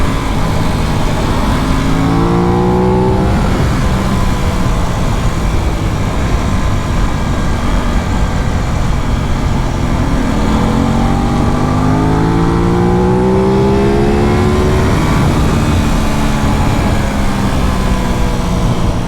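Aprilia RS 660 motorcycle ridden on twisty canyon roads, its engine droning loud and steady with rising and falling revs through repeated accelerations, wind roar throughout, no talking.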